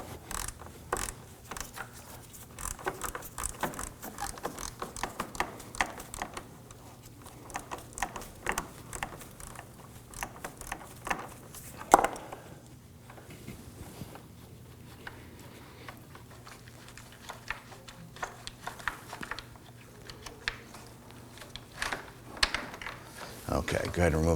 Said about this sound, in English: I'm gonna use a shallow 1/4 inch 10mm socket and my 1/4 inch ratchet to loosen and remove this bolt.